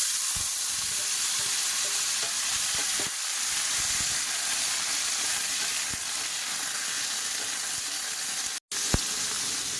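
Cut vegetables frying in hot oil in a kadai, a dense steady sizzle with occasional faint clinks and a brief sharp knock near the end, no voices.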